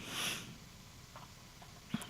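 Allergy sniffling: one short, faint nasal sniff near the start, followed by quiet room noise and a couple of small soft clicks.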